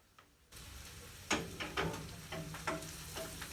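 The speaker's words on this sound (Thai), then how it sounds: "ผัดให้หอม หอมหัวใหญ่มันจะให้หวานนะจ๊ะพี่น้อง" Garlic, shallots and onion stir-frying in a pan for spaghetti, a steady close sizzle broken by several sharp scraping clatters of a utensil against the pan.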